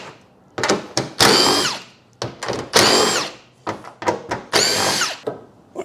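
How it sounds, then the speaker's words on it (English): Power tool removing small 10mm bolts from a bonnet scoop shroud on a Nissan Patrol, heard as several short whirring bursts with rising and falling pitch, separated by brief pauses and close to the listener. "Start by removing the little shroud piece, and then there's a few little 10mm bolts here."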